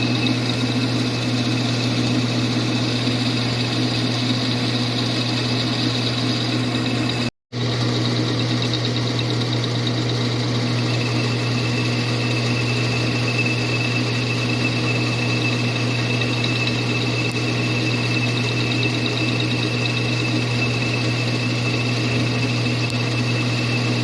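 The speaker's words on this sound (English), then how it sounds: "all I'm doing is boring holes in this" A shop machine bores holes in a workpiece with a steady, loud droning hum and vibration that runs almost unbroken, apart from one brief dropout partway through.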